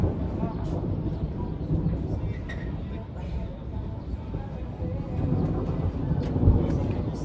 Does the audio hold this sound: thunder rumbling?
yes